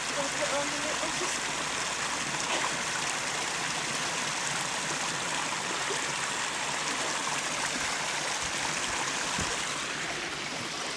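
A river on Dartmoor flows with a continuous broad rushing and trickling wash that stays steady throughout, with a person's voice heard faintly at times.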